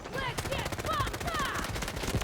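Rapid automatic gunfire in the shooter game Delta Force, steady bursts of closely spaced shots running through the whole moment, with a player's voice talking over the shooting.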